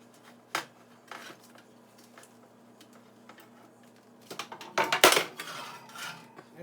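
Pieces of Kerala-style fish are flipped on a metal baking tray for oven frying: a few faint isolated taps, then a close cluster of clinks and scrapes.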